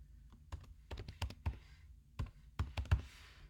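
Keystrokes on a computer keyboard as an email address is typed into a conference registration form, a run of sharp close clicks in irregular bursts with short pauses between them.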